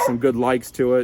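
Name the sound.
dog barking in the background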